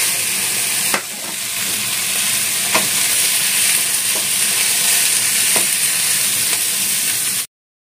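Shrimp, bell pepper and blanched vegetables stir-fried in a pan give a loud, continuous sizzle and hiss, with a few soft scrapes of the spatula heard up close before the sound cuts off abruptly.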